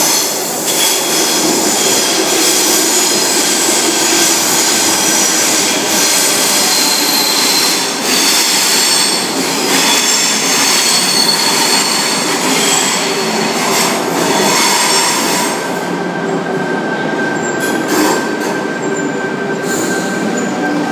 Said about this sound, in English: Bondi Junction service arriving on platform 2.